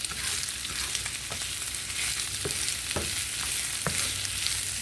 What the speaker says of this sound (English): And we are just going to cook